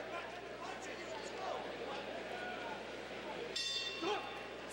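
A boxing ring bell clangs to end the third round, a bright metallic ding cutting through the crowd noise and the commentators talking near the end.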